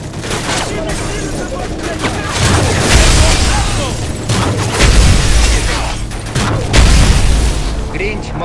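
Grenade blast inside the Call of Duty: Modern Warfare 3 campaign mission "Black Tuesday", a series of heavy booms and gunfire bursts recurring through a loud, dense battle mix, with soldiers' voices shouting in between.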